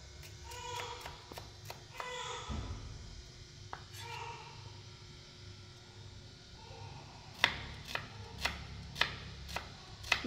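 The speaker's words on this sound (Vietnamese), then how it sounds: "Hành khô này em cũng sẽ thái ra," Sharp knife strikes chopping shallots on a cutting board, a quick irregular burst early on, then several louder, evenly spaced chops near the end, with faint background noise between.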